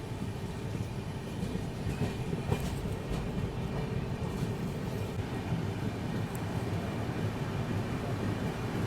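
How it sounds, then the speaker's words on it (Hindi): A train slows to about 30 km/h for track maintenance near Fakiragram Junction, heard from on board as a steady, loud rumble with faint wheel clatter throughout and no talk. "ट्रेन एकदम स्लो डाउन हो गई है फकीराग्राम जंक्शन के स्किप में"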